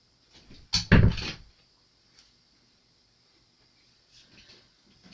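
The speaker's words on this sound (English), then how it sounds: "Hold on, let me just close my door." A room door swings shut with a single firm, close thud and rattle, followed by near silence with a few faint ticks.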